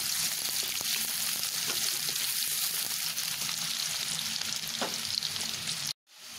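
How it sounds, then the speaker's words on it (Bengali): Sliced onions fry lightly toward golden in hot oil for a biryani with hilsa, a steady close sizzle with occasional stirring scrapes, cutting off briefly near the end. "পেঁয়াজটাকে আমি খুব বেশি ভাজবো না, হালকা করে হালকা সোনালি কালার করে ভেজে নেব।"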